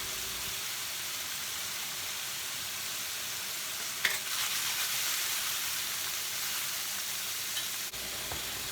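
Meatballs, garlic and onion fry in a pan, making a steady, even sizzle that holds at a constant level, with a faint clink near the middle.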